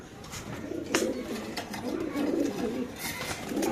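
Pigeons coo at a pigeon farm, soft repeated throaty coos over a busy background of other birds and faint chirps, fairly close and continuous.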